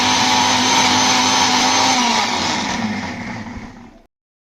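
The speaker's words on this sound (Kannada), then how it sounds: "ಇದನ್ನು ಮಿಕ್ಸರ್ಗೆ ಹಾಕ್ಕೊಳ್ಳೋಣ." A mixer grinder blends garlic, ginger and coriander stems with a loud, steady whirring roar that holds for about two seconds and then slowly winds down before stopping.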